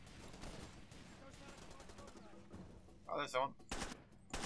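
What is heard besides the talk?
gunshots in Far Cry 2 video game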